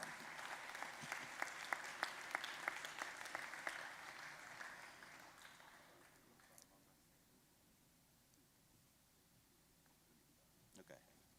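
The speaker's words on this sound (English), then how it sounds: "could I just have you give a round of applause to the planners of this program?" Applause at a Founders Day convocation for the program planners, a scattered patter of clapping that is fairly faint, thins out and fades to near quiet by the middle, with a few isolated claps and soft voices after.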